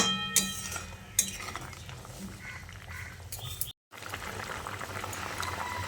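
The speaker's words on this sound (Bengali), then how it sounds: "তারপর বেশ কিছুক্ষণ হাই ফ্লেমে ভালো করে ফুটিয়ে নেব।" Fish curry with fried lentil dumplings bubbles steadily on a high flame, a continuous close boiling hiss with a couple of faint utensil clinks.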